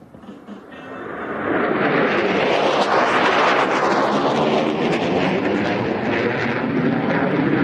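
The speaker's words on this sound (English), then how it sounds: "cast your eyes left for our F-16 aircraft" An F-16 fighter jet passes at an airshow, its roar swelling from a distant rumble into a loud, sustained, broadband blast that holds to the end.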